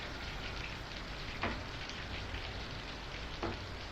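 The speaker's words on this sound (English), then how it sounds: "At the moment it is raining heavily." Heavy rain falls steadily outdoors, a dense continuous hiss with a couple of brief sharper drips or taps standing out, and no voices.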